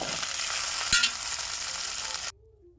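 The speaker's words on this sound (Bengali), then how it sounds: "সবজিগুলো ভাজতে ভাজতে সামান্য একটু লবণ ও হলুদ দিয়ে নাড়াচাড়া করে নিলাম।" Mixed vegetables frying in a pan after a mustard seed and dry chilli tempering, stirred as they cook: a close, steady sizzle with one sharper scrape near the middle, cutting off abruptly before the end.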